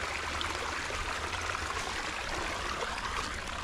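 A small ephemeral creek formed by rainfall runoff on a property flows steadily, a soft continuous trickling rush with low rumble, close and unbroken, with no voices.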